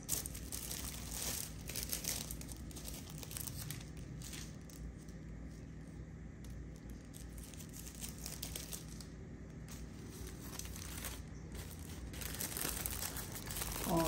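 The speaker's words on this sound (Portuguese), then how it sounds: "para embalar o brownie maior, eu vou utilizar esse saquinho aqui" Small 15 by 22 plastic bag crinkling as a brownie is packed into it, continuous close rustling and crackling handled by hand with no talking.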